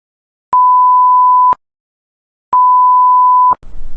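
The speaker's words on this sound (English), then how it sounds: "Toxic gas alarm, penggera gas toksik." Toxic gas alarm at an industrial site: two loud, steady one-second electronic tones, each separated by a second of silence, the second beep cut off abruptly by faint low rumble.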